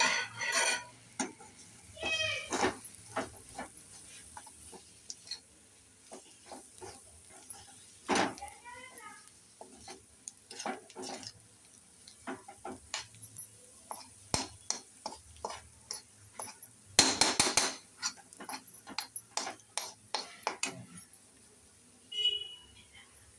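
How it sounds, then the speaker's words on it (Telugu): Three eggs are beaten in a bowl with a fork or spoon, giving rapid, irregular clicks and taps that come in bursts, alongside quiet background noise. "ఇప్పుడు మేము 3 ఎగ్స్ కొట్టుకుంటున్నాము."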